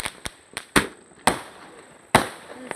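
Firecrackers burst one after another, about seven sharp, loud cracks in an irregular rhythm, some with brief crackling tails, close by.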